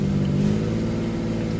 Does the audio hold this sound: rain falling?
no